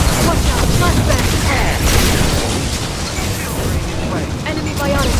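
Mass Effect 2 firefight with a flashbang grenade going off: loud, continuous booming blasts and gunfire bursts filling the scene, with voices calling out under the combat noise.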